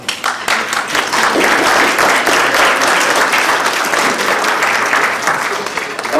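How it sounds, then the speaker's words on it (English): Loud, sustained applause from a large crowd at a June 4th Tiananmen massacre 30th anniversary memorial event, steady clapping filling the whole stretch with a slight swell and no break. "let's give them applause, please."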